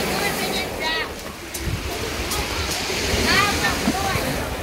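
Sea surf washing onto a beach in Crimea, a steady broadband rush with swells rising and falling throughout, with faint voices and other beach sounds in the background.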